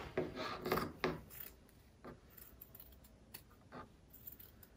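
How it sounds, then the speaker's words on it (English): Scissors snipping along the stitched edges of an embroidered fabric face mask, with a few close crisp cuts and rustling fabric early on, then quieter intermittent snips. "I am just cutting very, very, very close to it as I go around the mask."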